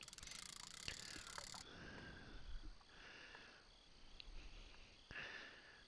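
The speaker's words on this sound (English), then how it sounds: "You've got all the crickets and that. I wouldn't be able to sleep. Shut the noise up." Night insects, crickets, chirp steadily in the outdoor scene of the VR fishing game Real VR Fishing, a faint continuous chorus with a few brief croak-like calls and soft ambient background.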